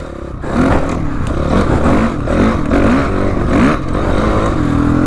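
Honda CRF450R motocross motorcycle ridden off-road, its engine revving in repeated rising and falling surges over a steady rough mechanical drone, close and loud, with clatter from the terrain.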